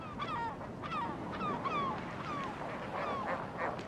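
Several gulls give repeated, falling cries over a low rushing background near a ringed seal colony, the calls overlapping at a moderate distance with no voices.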